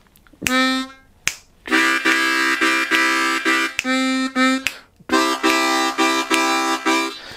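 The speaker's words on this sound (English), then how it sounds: "then we go to what's called the 4 chord of the 12-bar blues." Harmonica playing the four chord of a 12-bar blues in a rhythmic, chugging pattern, with short breathy pulses and brief pauses between phrases, played solo and fairly loud.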